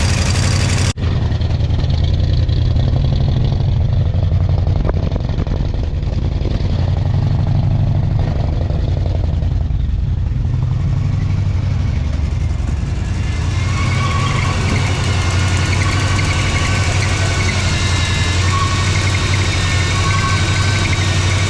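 A 1982 Ford F-150 truck engine idles steadily nearby with a low, even rumble and a faint ticking texture, the tone brightening slightly in the latter half as the revs sit somewhat high.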